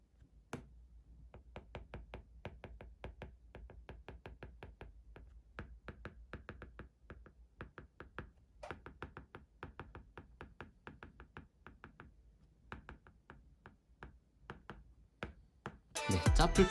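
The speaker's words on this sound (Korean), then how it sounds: "조용한 곳에서 필기를 할 때 소음이 어떤지 한번 테스트 한번 해보도록 하겠습니다." A cheap third-generation Apple Pencil clone stylus tapping and scratching across a tablet screen in a quiet room, with steady rapid faint clicks, followed by a louder burst at the end.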